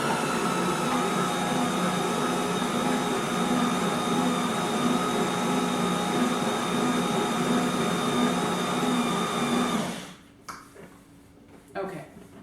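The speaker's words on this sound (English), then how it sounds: "This time, mix it until you have a ball of dough." A stand mixer runs steadily, kneading Danish pastry dough until it gathers into a ball. The motor drone is loud and constant for about ten seconds, then cuts off, leaving faint handling noises.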